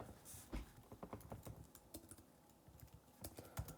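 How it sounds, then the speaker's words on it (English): Computer keyboard typing, a quiet, close run of uneven key clicks, some fast and some spaced apart, with no talking. "let me type that in"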